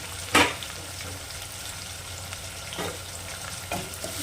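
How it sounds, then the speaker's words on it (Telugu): Sliced onions, long-cut green chillies and curry leaves fry in hot oil in a pan, giving a continuous soft sizzle, with one sharp loud clatter near the start and a few lighter stirring scrapes later. "ఆనియన్స్ గోల్డెన్ బ్రౌనిష్ కలర్ వచ్చేంత వరకు ఫ్రై చేసుకోవాలి"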